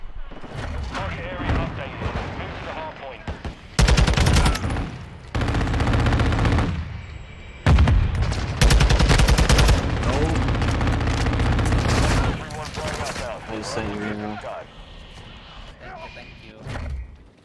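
Intense gunfight in Call of Duty Modern Warfare 2 Hardpoint multiplayer, with loud sustained bursts of automatic fire, heavy booms and overlapping volleys, broken by short lulls and mixed with game voice callouts.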